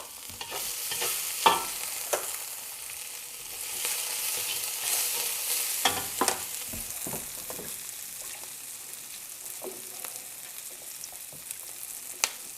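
Vegetables tossed into a wok of boiling water for chow mein, with steady bubbling and sizzle broken by scattered clanks and scrapes of stirring, no voices.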